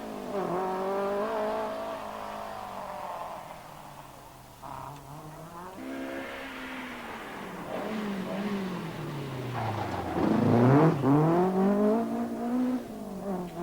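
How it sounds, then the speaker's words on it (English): A 1983 Ford RS 2000 rally car on a Circuit of Ireland stage, its engine revving and falling through gear changes, rising to a loud close pass near the end. "Stanley Orr's stylish driving of his RS 2000 has impressed many along the route"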